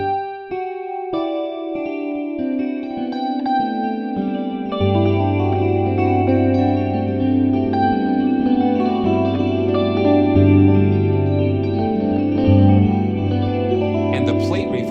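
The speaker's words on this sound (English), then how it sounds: "the plate reverb just gives it a nice little shimmer and sparkle, a little decay" Synthesizer strings play sustained chords through a plate reverb, with long shimmering tails and sparkling decay. The sound is loud and steady throughout, swelling as low notes enter partway through.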